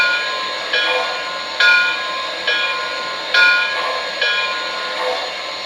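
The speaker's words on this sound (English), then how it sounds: "Here's the bell." An MTH Berkshire #759 model train's electronic bell rings in evenly spaced bright clangs, each decaying before the next, loud and close with a faint background hum.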